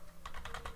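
Quick burst of a few keystrokes on a computer keyboard, faint and close, in a brief run of clicks.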